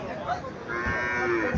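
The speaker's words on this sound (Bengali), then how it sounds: "এখানে একটা গাভী দেখা যাচ্ছে" At the Baruara Chandimura cattle market a cow gives a single drawn-out, loud moo close by, rising in the second half over a continuous murmur of market background noise.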